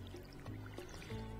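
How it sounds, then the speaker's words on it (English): Watering crops with a watering can in the farming video game Stardew Valley, a short soft trickle of pouring water with faint game music behind it. "just walking back and forth with the watering can is fine"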